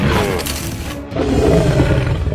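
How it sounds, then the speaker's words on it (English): A lion roars close and loud, a deep rough bellow that briefly pauses and then swells into a second, sustained growling roar. "Lion. King of the jungle. This is definitely a dangerous animal."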